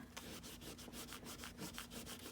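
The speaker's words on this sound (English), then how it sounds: "if you rub it before it dries, it just balls up. And then you could just get it right off of there." A fingertip rubs dried glue off a paper journal page in quick, steady back-and-forth strokes, a soft, faint, close scratching heard alone.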